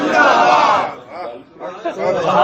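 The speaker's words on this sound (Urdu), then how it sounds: "نعرے تکبیر، نعرے رسالت، نعرے تحقیق، نعرے غوثیہ" Crowd at a religious gathering loudly chanting slogans in unison, a dense roar of many voices that dips briefly and then swells again.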